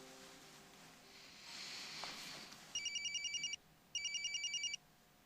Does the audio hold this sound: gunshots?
no